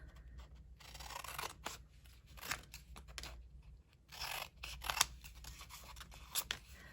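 Glue-coated scissors snip through paper in quick, irregular cuts, close and fairly quiet, with soft rustling between snips.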